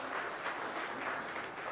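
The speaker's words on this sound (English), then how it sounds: "You should give applause for yourself." Steady, dense applause from a conference audience, loud and continuous throughout with no talk over it.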